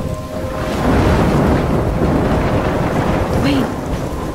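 A loud thunderstorm in the Life is Strange video game, with a continuous roar of rain and deep rumbling thunder swelling up close, with no voices over it.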